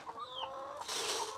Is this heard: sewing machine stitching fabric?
no